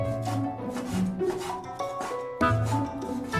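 A knife cuts pork shoulder into small chunks on a board, giving a run of close, fairly loud chopping and scraping strokes in an irregular rhythm, with no talk.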